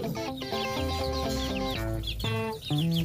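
Several chickens cluck and call over one another, a steady busy flock sound filling the whole stretch without pause.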